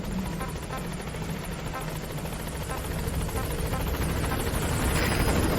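The Pequod helicopter in Metal Gear Solid V approaches a landing zone with a continuous, loud rotor thrum that swells slightly as it nears.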